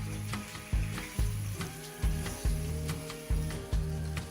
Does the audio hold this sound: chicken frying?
yes